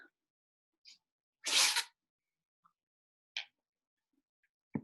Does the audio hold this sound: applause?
no